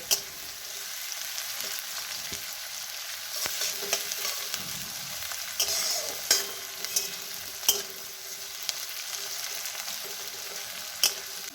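Sliced onions frying in oil over medium heat until browned, a steady close sizzle punctuated by irregular clicks and scrapes of a spatula stirring the pan, with no voices.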